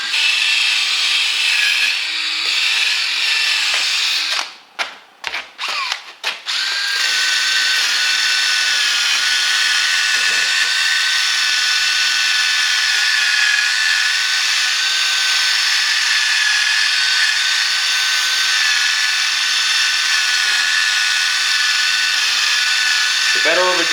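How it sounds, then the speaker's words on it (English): Yellowed headlight lens on an Acura TSX being sanded, a steady, close rubbing and whirring that runs almost the whole time, broken briefly by a few sharp knocks near the start, with a voice talking over it. "The better of a job you do at sanding, obviously the better the headlight's going to come out"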